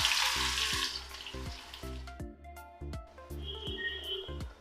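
Nigella seeds dropped into hot frying oil, a sizzling hiss at first that thins out, over rhythmic background music with repeating beats.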